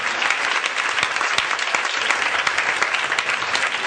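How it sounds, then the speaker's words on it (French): A church congregation applauds and acclaims the Lord at a worship service, steady dense clapping with scattered cheers filling the room throughout, loud and continuous with no break. "Je veux qu'on acclame très fort le Seigneur"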